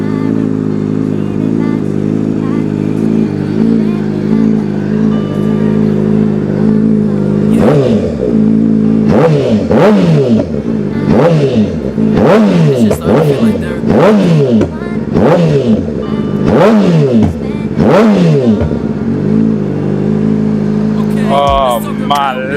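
A rebuilt 2024 Honda CBR600RR sport bike idles steadily nearby, then a rider blips the throttle in a rhythmic series of sharp revs that rise and fall before settling back to idle.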